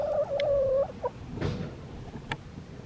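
Pet chicken clucking close by, a drawn-out tonal call followed by a couple of short clucks and a soft rustle, fairly loud against a quiet room.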